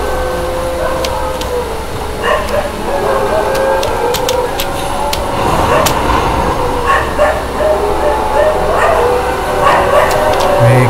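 Dogs in Elden Ring bark and yelp repeatedly, in loud bursts amid a dense, noisy mix of other game sounds, with a voice talking over them.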